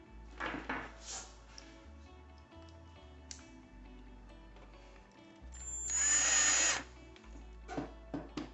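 Power drill driving in the motor bolts on a Sanitaire SC6846 upright vacuum cleaner: short whirring bursts of the drill, several in a row, with one longer, louder run near the end and small clinks of parts, close by with no talking.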